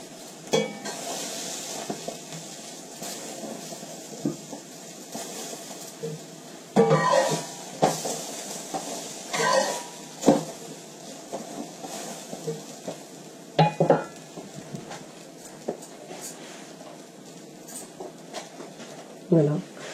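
Cheese naan cooks in melted butter in a pan, giving a steady sizzle with occasional utensil scrapes and clinks, under a voice speaking.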